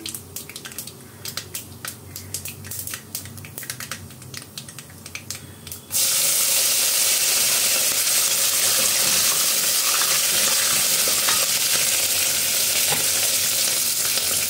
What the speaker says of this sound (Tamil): பொரிஞ்சோடனே கருவேப்பிலையும் பச்சை மிளகாயும் போட்டுக்கலாம்.